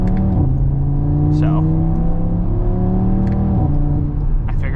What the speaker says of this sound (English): I really wanted to modify this car and kind of open up the 5-cylinder noise